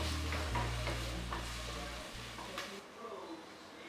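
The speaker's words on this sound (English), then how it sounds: "Give a mix for a few seconds." A spoon stirs potato and egg chilli sauce with soy sauce, chilli sauce and black pepper in a pan: a few soft scrapes over a steady sizzle and low kitchen hum.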